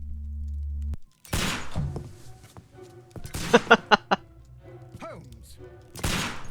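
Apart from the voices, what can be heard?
gunshots in Sherlock Holmes Crimes and Punishments video game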